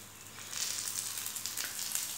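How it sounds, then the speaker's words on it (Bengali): Ghee is poured over pitha frying in a pan and sizzles softly with a close, hissing crackle that swells slightly and holds steady. "এবারে এটি দিয়ে দেবো, ঘি দিয়ে দেবো উপর দিয়ে"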